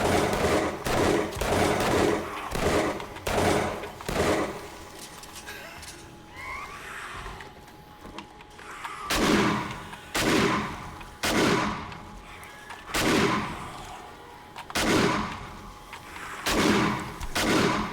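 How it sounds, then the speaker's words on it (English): Repeated shotgun blasts in the zombie survival game 7 Days to Die, loud evenly spaced booms fired in quick bursts with a short lull in the middle, then another run of shots. "I need to stop shooting the shotgun"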